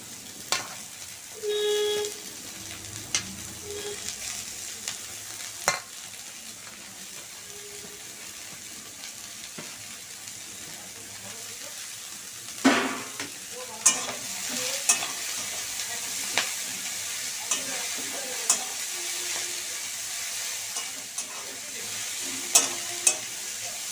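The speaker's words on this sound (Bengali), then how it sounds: "আমার পেঁয়াজ রসুনটা লাল লাল করে ভাজা হয়ে গেছে। আমি এর মধ্যে শাকগুলোকে দিয়ে দিচ্ছি।" Spinach-type greens tipped into a pan of oil with browned onion and garlic give a steady sizzle while being stirred, with occasional scrapes and clinks of the utensil; no one speaks.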